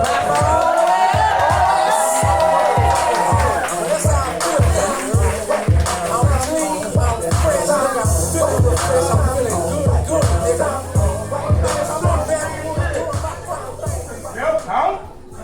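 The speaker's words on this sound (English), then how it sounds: "Clap her all the way up" At a live poetry slam in Greenville, an audience claps in a steady, evenly spaced rhythm with crowd noise and some cheering, while a person talks loudly over the clapping throughout.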